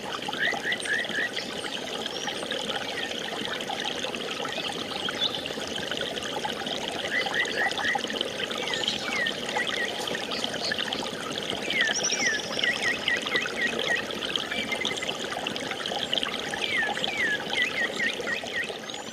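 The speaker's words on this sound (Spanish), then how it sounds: "Lo que acaban de escuchar es la grabación de un río que desapareció." A river in La Guajira, Colombia, a waterway later lost to a coal mine, flows steadily with a continuous bright rushing and trickling, while birds chirp in short repeated bursts over the water throughout.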